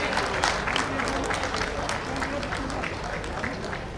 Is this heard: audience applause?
yes